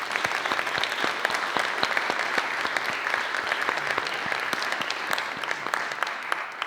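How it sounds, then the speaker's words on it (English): Audience at a photography event claps in a sustained, dense round of applause, steady and fairly loud throughout, with no speech over it. "So let's give Joel a huge round of applause."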